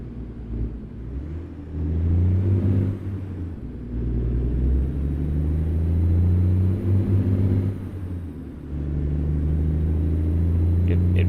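A car engine in a driving video game drones low and steady, swelling and dipping as the revs change, with a brief drop in the middle.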